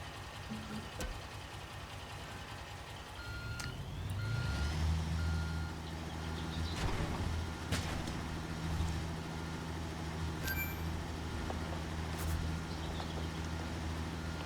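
A truck in the video game Construction Simulator backs up and parks, its reversing alarm beeping steadily over a loud, continuous diesel engine rumble that swells as it maneuvers.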